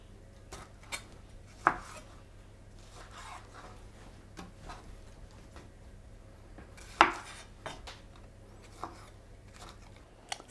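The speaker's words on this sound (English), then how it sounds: "then chopping them into sort of just each into half into 4" Knife chopping red onion for a caramelised onion topping, in a home kitchen. A few sharp, sparse board knocks, with one loud strike near the middle, over a low steady background hum.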